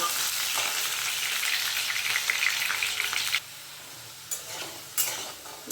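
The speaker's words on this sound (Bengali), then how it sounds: "আমি এই তেলে আলুটাকে ভেজে নেব" Potatoes fry in hot oil for an aloo-jhinge posto dish, giving a steady, loud, close sizzle that drops abruptly partway through, then returns in short bursts. No one speaks.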